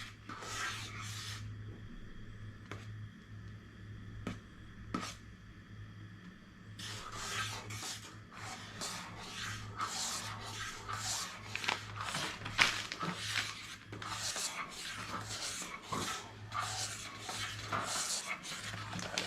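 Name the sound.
stirring food storage meal with a camping spoon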